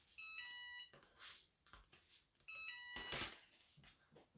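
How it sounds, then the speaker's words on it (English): An electronic device gives two bursts of shrill, evenly pulsed beeps, each lasting under a second and separated by a pause, with faint handling noise and rustling around them. "it keeps beeping at me"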